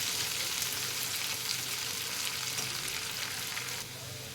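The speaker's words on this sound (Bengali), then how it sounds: "ভালো করে আলুটা লাল করে ভেজে নেব" Potatoes fry in a pan with a loud, steady sizzle that fills the whole stretch, easing slightly toward the end.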